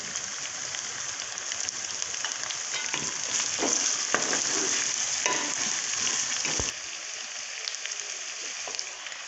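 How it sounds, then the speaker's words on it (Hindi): Steady, close sizzling and crackling of ginger garlic paste frying in hot oil with chicken, with occasional stirring scrapes and no voices. "हमारा अदरक लहसुन पेस्ट थोड़ा सा फ्राई हो चुका है।"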